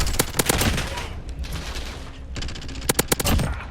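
P90 submachine gun fired in a video game, with short bursts of rapid, loud gunshots separated by a brief pause, close and punchy, and no talk over the firing.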